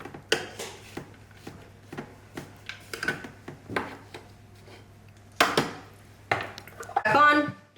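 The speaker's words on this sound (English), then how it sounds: "Give it a scrape." A utensil scrapes and knocks against a mixing bowl in a kitchen, giving irregular clinks and scrapes at moderate volume with occasional louder clatters.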